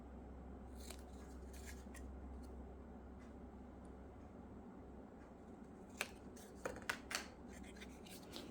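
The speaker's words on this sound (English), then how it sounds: "I will put my scissors right on the score line, and then I will swivel them to the angle that I want to cut it" Scissors snip through scored card at an angle, giving a few quiet, sharp clicks and short cuts near the end over a soft background hum, with no talking.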